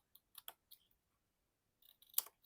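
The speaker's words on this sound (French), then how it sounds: "avec un ciseau, biseauter la petite languette qui est là" Small scissors bevel a little paper tab for a handmade mini album, giving a few quick, quiet snips close by, then a short pause and a denser cluster of clicks, with no talking.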